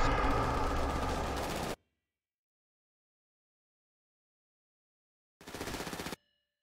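Bursts of Combat PDW automatic gunfire in a roleplay video game: a loud, dense volley lasting nearly two seconds, a long silence, then a second shorter burst.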